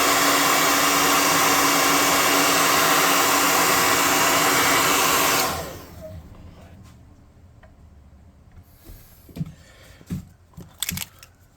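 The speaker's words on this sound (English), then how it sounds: "Now we're gonna hit him with the air dryer before we put any paint on here," An air dryer blowing on a Heroclix miniature before painting, a loud steady whoosh for about five seconds that cuts off, followed by faint clicks and small handling knocks.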